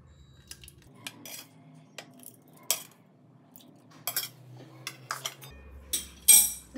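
Chicken gravy spooned into a biryani pot greased with ghee, with sporadic metal spoon clinks and scrapes against the pot, close and clear, separated by quiet gaps.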